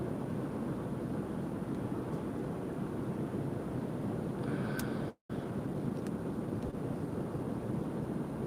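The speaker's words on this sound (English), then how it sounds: "It's so loud with wind." Wind roars steadily against a moving BMW i3s electric car, a broad constant rush filling the cabin. A short dropout cuts in midway, and a few faint clicks and tones sit beneath it.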